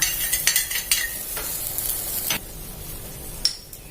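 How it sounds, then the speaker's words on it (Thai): Soy sauce, dark soy and oyster sauce with sugar heating in a pan, a soft bubbling sizzle broken by several sharp scraping stirs near the start and a final clink, close and moderately loud. "ซอสของเราเริ่มเดือดแล้วนะคะ"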